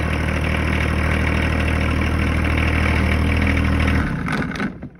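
Several tractors idle steadily, a close, loud, even low rumble lasting about four seconds before the engines cut out and a brief mechanical clatter fades.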